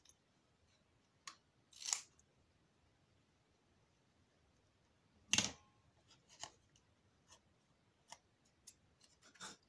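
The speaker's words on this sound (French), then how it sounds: "Pareil pour celui-là, on va le couper un petit peu." A few sharp scissor snips cut a small piece of material, close and crisp, separated by quiet pauses and light handling ticks.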